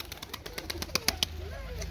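Soft cooing of young Sivas pigeons close by, mixed with light fluttering, tapping and shuffling noises in an enclosed space.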